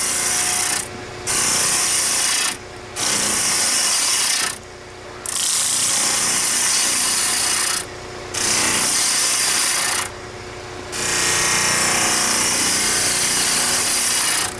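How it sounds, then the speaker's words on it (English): A bowl gouge cutting wood spinning on a lathe while shaping a rolling pin, loud rough hissing tearing bursts broken by short pauses between passes, close and with no talking. "I'm going to use my bowl gouge just to start"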